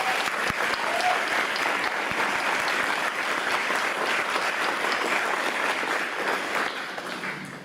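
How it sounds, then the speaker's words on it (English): A gala audience at an awards dinner gives a round of applause to agriculture teachers, dense sustained clapping filling the room loudly before tapering slightly at the end. "please join me in giving a round of applause to all of our ag teachers"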